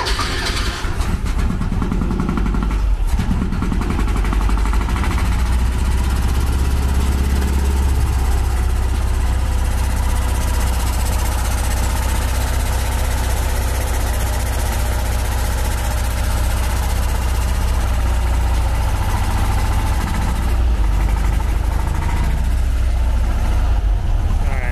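A carbureted engine, just started after a timing adjustment, runs loud and steady at a rough idle for the whole stretch. The rumble stays close and constant, with faint voices briefly under it.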